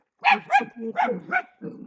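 A dog barks close by in a quick run of five short, yappy barks, loud and clear with nothing else audible.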